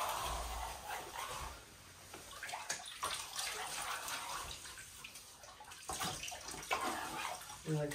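Pressurized water sprays against a plaster bead at a wall corner as freshly troweled flat plaster is cut back, a steady close hiss and splash with small surges throughout.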